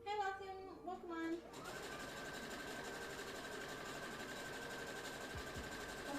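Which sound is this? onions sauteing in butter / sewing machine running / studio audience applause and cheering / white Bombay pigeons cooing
sewing machine running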